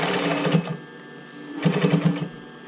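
A sewing machine stitches along the edge of a fabric bra cup in two short, rapid bursts of mechanical rattling separated by a brief pause, close and clear.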